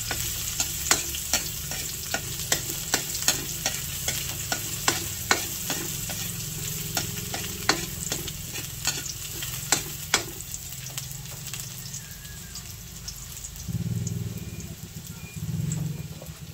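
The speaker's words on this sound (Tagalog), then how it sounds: "Akin na pong ilalagay ito pong bawang at saka po yung sibuyas. At akin lang pong hahaluin." Garlic and onion fry in a pan for a squash, string bean and shrimp coconut dish, a constant close sizzle punctuated by repeated sharp clacks of a utensil stirring and scraping, without any talk.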